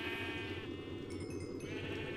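Sheep in the video game Minecraft, modded Project Ozone 2 pack, bleat steadily across the whole span. The sound is up close and constant, with no talk over it.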